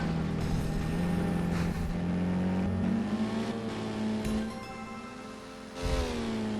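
Engine revving and accelerating in inRun VR, a retro racing video game, with rising tonal pitch sweeps that climb steadily and hold loud throughout, dipping briefly before surging again near the end.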